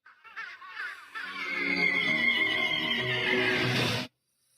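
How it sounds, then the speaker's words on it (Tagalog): A horse neighs in a Tagalog-dubbed anime film: one long, loud, wavering whinny of about three seconds that stops abruptly, with no voices over it. "bibigyan namin kayo ng kabayo"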